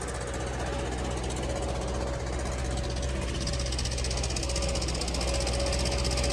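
Tractor engine on a farm running hard as the machine drives out, a loud, continuous knocking diesel rumble with a steady vibrating drone that holds near and constant from start to finish.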